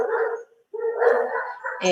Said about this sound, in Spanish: los perros de la esquina que siempre a esta hora se alborotan